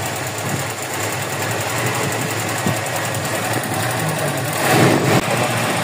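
A Toyota Revo with a 7K engine and a weak battery, suffering low power, black smoke and an ECU fault code, runs with a steady, loud, close mechanical drone that swells briefly near the end.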